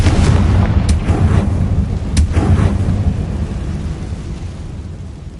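Confringo blasting spell cast in the video game Hogwarts Legacy, loud booming rumbles with a few sharp cracks, rolling like thunder and slowly fading.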